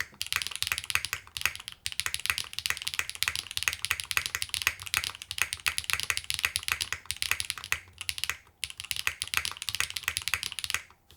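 Steady fast typing on a Glitter65 mechanical keyboard with Yogurt switches, a dense clatter of close key clicks with brief pauses and occasional heavier spacebar thocks, with no talking over it.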